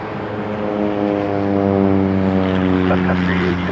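A Cessna Caravan propeller plane coming in to land at Toronto Pearson gives a loud, steady droning hum with a strong even pitch that holds throughout, slowly swelling a little toward the middle.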